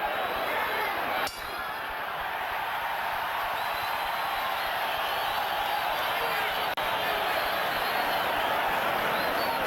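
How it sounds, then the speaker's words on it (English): Crowd noise at the 1990 Julio Cesar Chavez vs Meldrick Taylor boxing fight, a constant loud roar of the arena audience heating up, with a couple of sharp clinks cutting through. "And the crowd begins to heat up as Julio Cesar Chavez turns up the pressure."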